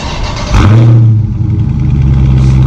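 A stock 2019 Dodge Charger Scat Pack engine cranks and fires up loudly, then settles into a deep, steady rumbling idle close by.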